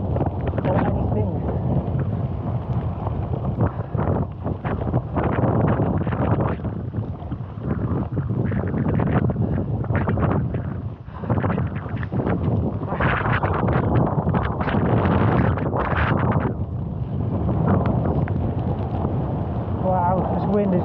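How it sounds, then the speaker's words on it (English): Strong gusting wind on a mountain climb up Yr Wyddfa in Wales, buffeting the microphone with a loud rumbling roar that surges and eases throughout, while a voice speaks at times. "Wow, this wind is picking up."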